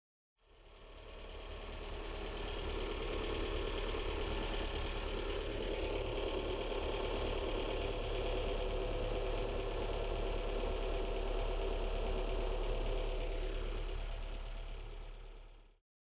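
A car engine running steadily through an ignition system test, with a continuous, even mechanical drone and a low rumble. It is close and constant for about fifteen seconds, fading in and out at the ends with no talking.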